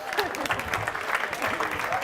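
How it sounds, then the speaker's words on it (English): A small group at a forum in London claps briefly and unevenly while voices talk over the applause. "Okay, applause for yourself."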